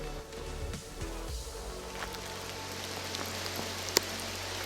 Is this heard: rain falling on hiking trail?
yes